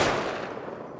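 A single gunshot in a video game, a sharp loud crack at the very start that decays quickly into a fading ringing tail.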